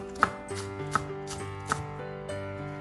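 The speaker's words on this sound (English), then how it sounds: "Cut big green onion in half and then chop big green onion and scallions into" A knife chops big green onion and scallions on a board, four or five sharp, close cuts spaced unevenly with a faint background hum.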